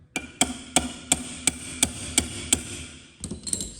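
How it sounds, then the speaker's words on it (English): A hammer taps repeatedly on a part of a 1967 Valiant 318 V8 engine during reassembly, about nine sharp, evenly spaced metallic knocks close up, followed by a brief cluster of softer clanks. "Give it a little tap with the"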